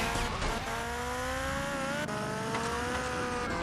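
A motorbike held at full throttle in GTA Vice City, its engine a continuous high whine that rises and falls slightly as it speeds along, loud and close with no talk.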